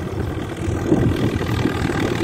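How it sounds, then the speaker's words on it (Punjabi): A tractor engine runs steadily with a Malwa multicrop machine working on wheat, a continuous low rumbling drone at close range without talking. "ਮਾਲਵਾ ਮਲਟੀਕਰੋਪ ਔਰ ਯੂਪੀ ਚੱਲ ਰਿਹਾ ਸਰ ਟਰੈਕਟਰ"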